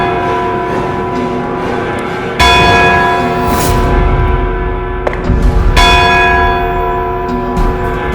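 A large bell tolls in slow, resonant strokes, each clang ringing out and decaying into a long humming tail.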